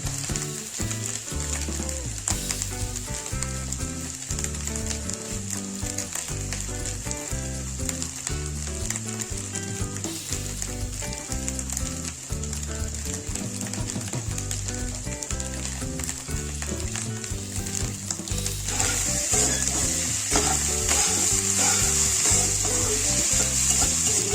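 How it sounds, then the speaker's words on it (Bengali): Masala pulao cooking in a pan with steady sizzling and stirring, with a rhythmic layer of background music. The frying hiss grows louder and brighter near the end, with no talking. "একটু হালকা হাতে নাড়াচাড়া করে নামিয়ে নেব"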